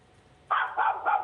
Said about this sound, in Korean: 왜 자꾸 강아지 소리가 들리죠?